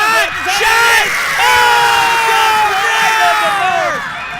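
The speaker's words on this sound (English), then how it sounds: "And the crowd is going wild" A football crowd at an under-23 men's match in the Marianas roars and cheers loudly, swelling shouts and whoops layered over a steady din that fades near the end.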